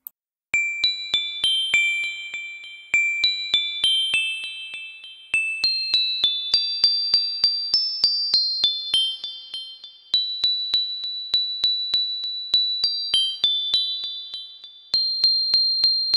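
A bright bell chimes a festive melody, each clear ding ringing out and decaying over a steady rhythmic sequence, loud and close with no voices.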